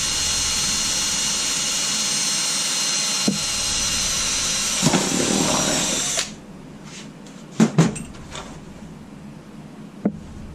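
A power drill whines steadily, loud and close, while boring a hole in a Jeep TJ, then stops abruptly, followed by a few sharp knocks and clicks.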